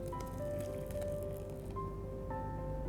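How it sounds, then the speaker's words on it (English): Freshly made chhena is poured through a sieve lined with muslin cloth into a bowl, giving steady wet squishing and draining sounds that run continuously, close and moderately loud. "you have to strain this off immediately"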